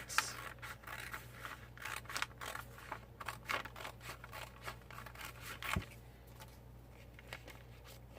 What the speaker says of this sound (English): I'm liking this border strip sticker. So I'm gonna cut that out.